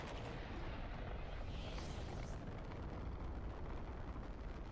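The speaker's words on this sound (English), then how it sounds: "it's going. The rocket is going." A rocket launches during a Fortnite live event, a sustained roaring rumble with broad low-end thunder that stays loud and unbroken throughout.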